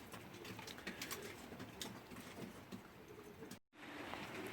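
Racing pigeons in a loft with breeding birds give soft, scattered cooing amid general loft noise, fairly low and steady with a brief dropout near the end.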